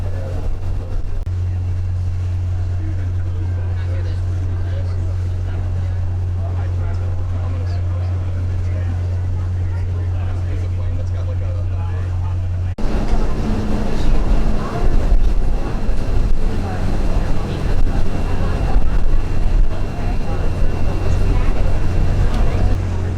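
Ferry crossing from Charleston harbor to Fort Sumter, a steady low engine drone and hull rumble with wind buffeting the microphone, growing louder and rougher partway through, with speech over it.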